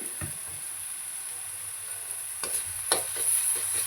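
Ginger garlic paste sizzles in a pan with a steady, close hiss, joined by a few sharp stirring scrapes near the end, no voices.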